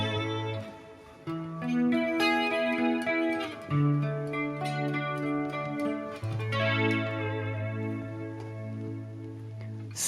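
An electric guitar played through a Hotone Ampero 2 Stage multi-effects unit on a clean amp tone with vibrato, sustained notes and chords wavering in pitch, rising in loud clear phrases with a few brief gaps.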